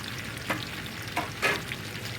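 Diced russet potatoes frying with bacon in a pan give a steady close sizzle, broken by a few louder stirring scrapes, with no talking.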